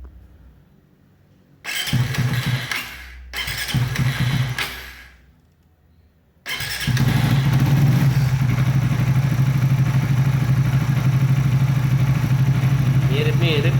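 A Suzuki V-Strom 250 motorcycle fitted with an Xmax coil, heard up close as two short cranking attempts that catch and die before the engine starts and settles into a loud, steady, throbbing idle.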